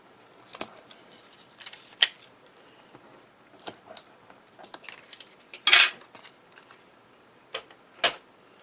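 Scissors snip tape on a piece of acetate card, giving several sharp, close cuts and clicks at irregular intervals, with quiet handling between them.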